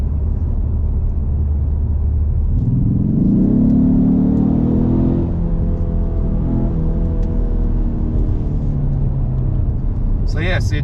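A 2020 Ford Mustang with the 2.3 EcoBoost engine drones loudly and steadily, its pitch rising as it revs and then easing back, with a person talking over the engine.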